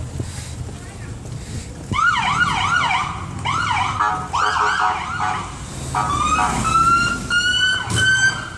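A wailing police siren in Sault Ste. Marie rises and falls repeatedly, loud and close, with a second siren tone joining near the end over street noise.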